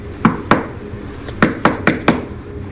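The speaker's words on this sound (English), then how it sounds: "you're awakened by a loud, usually violent, aggressive sounding knock" Six sharp knocks in an uneven series, two then four, loud and close, with brief pauses between them against a quiet background.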